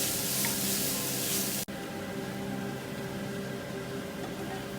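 Pieces of mutton liver fry in hot oil, a loud, dense sizzle that hisses brightly at first, then drops abruptly to a steadier, slightly softer crackle that continues to the end.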